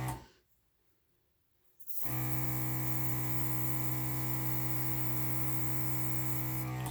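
After a brief quiet start, an airbrush spraying paint on a gold Dutch pour artwork kicks in with a steady, loud hiss and an underlying mechanical hum that continues unbroken to the end.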